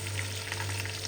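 Onions going into a pan of adobo, a brief, dense, even sizzle heard close up and with no voices.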